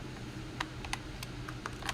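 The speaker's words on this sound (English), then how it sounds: "Apologies when you hear those keyboard and mouse sounds all the time." Computer keyboard keys and a mouse click in a quick irregular patter during a live sports broadcast, faint and close over a low steady background hum.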